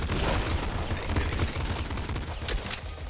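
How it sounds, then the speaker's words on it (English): Rapid pop gun fire in the top-down shooter Nuclear Throne, a dense, steady stream of loud popping shots with booming impacts running without pause. "I just gotta take out the pop gun real quick"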